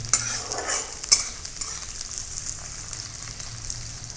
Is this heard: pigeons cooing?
no